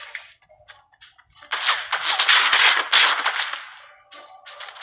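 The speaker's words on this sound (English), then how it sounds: "why are you shooting at me?" Gunfire in the video game Fortnite: a dense burst of rapid shots, loud and close, rising after a quieter start and then trailing off into scattered faint shots, with no talk over it.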